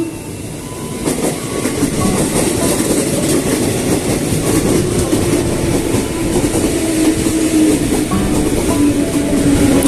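A crowded KRL commuter train rolls along steadily, a loud continuous rumble with rail clatter and a faint rising tone from the motors, with no talk.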